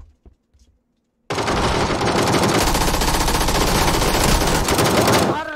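Sustained automatic gunfire in a video game, a loud unbroken burst of rapid shots lasting about four seconds after a brief quiet lead-in.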